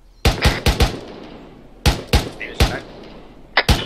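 Rapid rifle shots ring out in ARMA 3, a quick burst of four around the start, then a scattered second volley of sharp, loud cracks with short echoing tails, a faint distant shot between.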